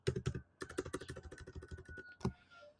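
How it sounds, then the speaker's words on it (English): Fingers type on a computer keyboard in a quick, irregular run of close, crisp key clicks with short pauses, fairly quiet overall. "while I'm typing this"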